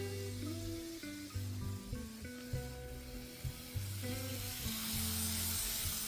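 A Kato Series 117 JR Tokai four-car model train runs fast on its track, giving off a steady, close motor whine with shifting tones and faint rail clicks throughout.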